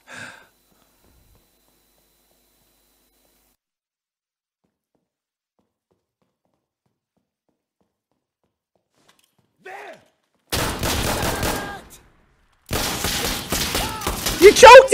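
Gunfire from Insurgency: Sandstorm in a night operation: silence, then two loud sustained bursts of rapid shots, with a brief gap between them and a sharper crack at the very end.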